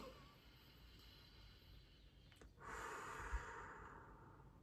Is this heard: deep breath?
yes